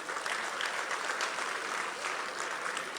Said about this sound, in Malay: Yang di dalam Dewan, sila berikan tepukan pada rakan-rakan yang di luar Dewan.